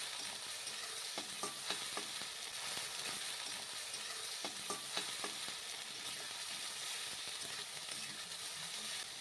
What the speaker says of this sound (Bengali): এবার সামান্য জল দিয়ে মশলাটা ভালো করে কষিয়ে নেব।